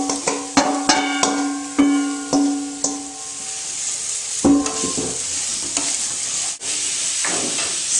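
Ginger and daikon stir-fried in a pan, with a steady sizzle under repeated metallic scraping and clinking of a utensil against the pan, ringing tones sounding in rhythmic strokes, close and clear.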